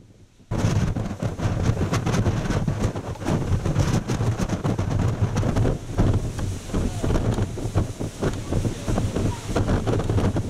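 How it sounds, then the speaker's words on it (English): Strong wind buffets the microphone on an exposed moorland summit near Higher Shelf Stones on Bleaklow, a loud continuous roaring rumble with gusting surges that starts abruptly and never lets up. "I've just come below them to get out of the wind"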